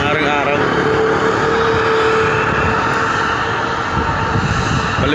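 China Airlines airliner taking off at an airport: a steady, broad roar of jet engine noise that fills the whole clip, heard from a distance, with voices talking over it.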